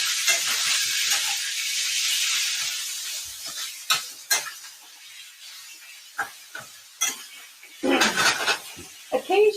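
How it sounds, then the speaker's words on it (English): A garlic clove sizzles in a hot pan, a continuous bright frying hiss broken by several sharp clinks and scrapes of stirring utensils against the cookware. "garlic clove sizzling now."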